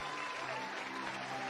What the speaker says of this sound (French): Thank you so much for clapping.